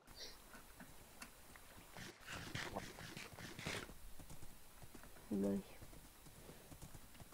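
Horse hooves clip-clop in a steady rhythm as characters ride horses through a video game world, the hoofbeats running close and clear under ongoing talk.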